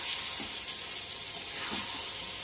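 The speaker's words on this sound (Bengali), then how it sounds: "একটু কষিয়ে নিলাম বেগুন দিয়ে" Eggplant sautéing with spices in a hot pan gives a steady, loud, close sizzle and hiss that runs without a break, with a few soft stirring scrapes underneath.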